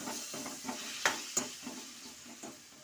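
Drumsticks and smashed tomato stirred in a frying pan, a soft sizzle under repeated scraping strokes of a spoon, with two sharper clinks against the pan midway.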